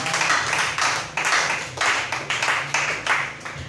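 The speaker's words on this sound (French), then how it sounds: "Acclamons très fort pour notre Seigneur." A church congregation claps loudly in praise during a New Year 2024 sermon, several bursts of dense applause rising and falling in quick succession, close and full, with no talking over it.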